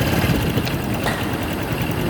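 A car engine runs steadily with a 25-cent coin lodged inside, giving a continuous low rumbling idle with a faint rattling texture, close and fairly loud throughout.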